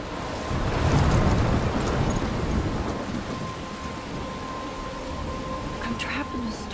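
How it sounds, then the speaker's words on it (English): A thunderstorm from the video game Life Is Strange, with steady heavy rain hissing throughout and a deep roll of thunder swelling early on, loud and enveloping, with no talk over it. "I'm trapped in a storm?"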